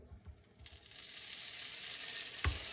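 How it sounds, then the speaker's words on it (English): Potatoes fry in a pan, and a drop of water thrown in sets off a bright, hissing sizzle. The sizzle swells and holds steady, quiet and close, with a small knock near the end. "Hear the sizzle?"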